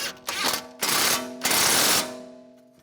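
Ratchet or power tool tightening a strut mount nut on a 2004-2010 BMW X3, heard as three loud rattling bursts of rapid clicking in quick succession, ending with a fading ring.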